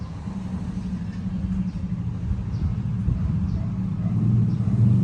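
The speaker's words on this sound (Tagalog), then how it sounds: "nakakabwisit dito yung ingay ng mga motor." Motorcycles passing on a roadside street, heard as a steady low engine rumble with a faint swell of revving near the end, continuous and fairly close with no voices on top.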